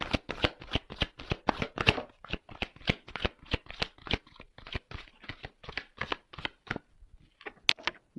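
Tarot cards shuffled by hand in a long run of quick riffling flicks and slaps, steady and close, with brief pauses toward the end and no voices.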